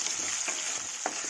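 Onions frying in a pan with garlic and green chilies, a steady close hiss of oil with a few soft stirring scrapes, no talking.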